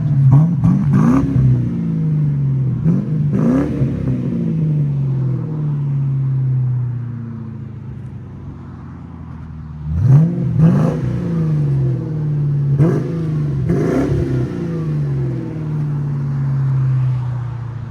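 A 1997 Ford Mustang GT with a 4.6-liter V8, manual gearbox and Flowmaster Flow FX exhaust idles with a deep rumble, then is revved in sharp blips in two clusters, loud and close.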